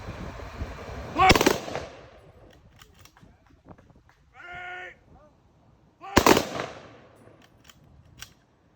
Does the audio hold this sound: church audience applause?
no